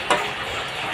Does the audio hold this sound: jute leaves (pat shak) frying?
yes